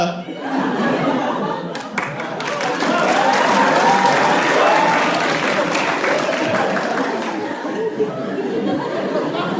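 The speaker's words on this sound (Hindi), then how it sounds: "ये ताली क्या मार रहे हो बे?" A stand-up comedy audience claps steadily for several seconds, a dense burst of applause that swells and then fades, mixed with chuckles and laughter from the crowd.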